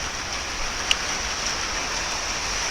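Steady rain pattering and clattering on a roof, a dense continuous hiss close by with one brief sharper drip near the start.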